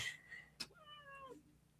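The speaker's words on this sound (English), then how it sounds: "She's meowing." A cat gives a single drawn-out meow, close by, after a brief knock, against a quiet room.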